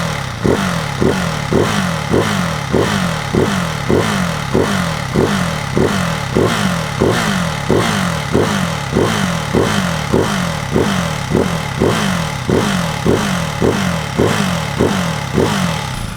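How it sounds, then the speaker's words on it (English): Ducati Hypermotard 698 with an Akrapovic slip-on exhaust, fully warmed up, blipped in a steady series of sharp revs, about two per second, loud and close without talk. "Let's give it some revs and to see if there is any difference in sound at higher revs as well."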